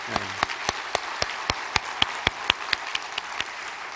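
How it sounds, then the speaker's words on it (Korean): Congregation at a 2019 New Year's Eve church worship service claps in unison, steady rhythmic claps about four per second, moderately quiet and even, with no talk over them. "우리 하나님께 영광과 감사의 박수 한번 돌릴까요?"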